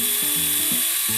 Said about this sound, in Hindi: हम लोग यूज करेंगे ये बैटरी ऑपरेटेड ड्रिल।